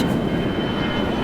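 An airplane roars overhead as a loud, steady broadband engine rumble filling the short moment, with no voices.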